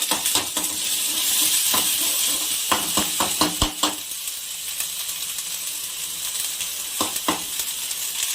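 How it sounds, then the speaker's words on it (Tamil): Ginger garlic paste sautéing in a pan, loud steady sizzle and hiss with a quick run of clattering stirs and scrapes against the pan in the middle and a couple more near the end. "இஞ்சி பூண்டு பேஸ்ட் கொஞ்சம் போட்டுக்கணும். அதை வதக்கிக்கணும்."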